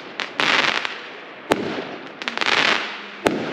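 New Year fireworks and firecrackers go off on a street: continuous crackling bursts with a few sharp, loud bangs punching through at intervals.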